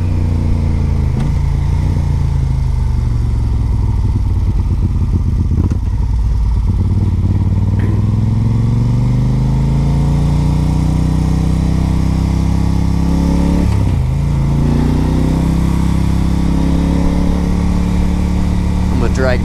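A large motorcycle engine rumbles loudly and steadily up close, with a deep idling throb that rises and falls slightly in pitch.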